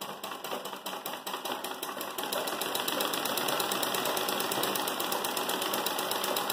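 An embroidery sewing machine stitches a Turkish stitch in a fast, even mechanical rhythm, close and continuous, with the needle's rapid ticking steady throughout and growing slightly louder and denser partway in.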